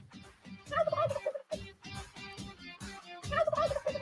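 A turkey gobble sound effect plays in two bursts of rapid, rattling gobbles separated by a brief pause, loud and close with no talk over it.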